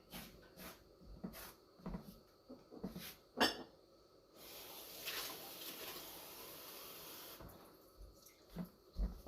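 A few clicks and knocks, then a steady splashing pour of water for several seconds, followed by more light clatter.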